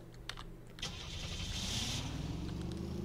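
A car engine in a video game cranks and catches, then settles into a steady low running drone as the vehicle begins driving, heard alone without talk.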